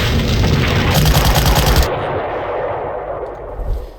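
Gunfire from a counter-battery artillery strike in the WWII strategy game Panzer Corps, Danzig Corridor battle: a loud dense burst of rapid shots for about two seconds, then a fading rumble with a few scattered reports, no talking.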